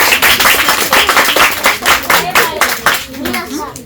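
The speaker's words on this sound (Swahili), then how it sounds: "Makofi." Children at an orphanage center in Goba Kibululu, Dar es Salaam, clap together in a quick, uneven rhythm, with voices talking over the clapping.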